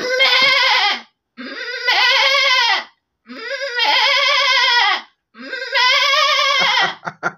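A man imitates a goat, bleating four times in close, loud, wavering cries with brief pauses between them. A few short clicks follow at the end.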